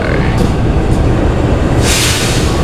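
Cikuray economy stainless-steel train passing through Nagrek station, a loud steady rumble of wheels and carriages that stays close throughout, with a hissing wash rising near the end.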